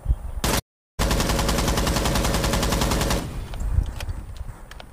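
Rapid bursts of automatic gunfire hammer a wall in Rainbow Six Siege, a dense rattling volley that cuts out briefly, resumes, then stops, leaving scattered lighter clicks and thuds.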